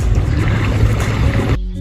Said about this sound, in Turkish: Tekne.